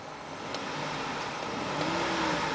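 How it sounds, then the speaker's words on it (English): A 2007 Lincoln Navigator's 5.4 liter V8 revs up from idle, a fairly faint, steady engine roar that climbs slightly in loudness across the few seconds, with no talking. "I'm going to go ahead and rev the engine."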